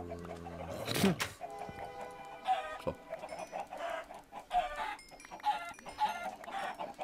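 Chickens cluck in the blocky video game Minecraft, scattered short game-sound clucks repeating in a loose rhythm, with a voice talking briefly over them.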